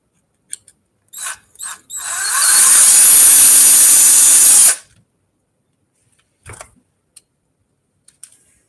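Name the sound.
power tool taking screws out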